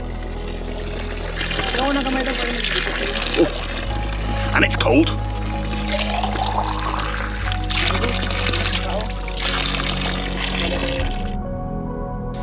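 Water pours and trickles into a bottle at close range, gurgling as it fills, while a person briefly speaks over it, at Lake Holon crater lake in the Philippines.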